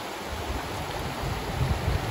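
Clear, shallow water of the Tolt River in Washington flowing steadily over its bed, a soft continuous rushing with low burbling, close by and with no voices.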